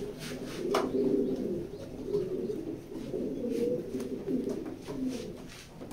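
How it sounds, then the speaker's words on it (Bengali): Purebred pigeons coo steadily in a pigeon loft, low throaty calls repeating close by for the whole stretch, with no talking over them. "আমি ছেড়ে দেখাই কবুতরটা।"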